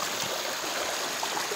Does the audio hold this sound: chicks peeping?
no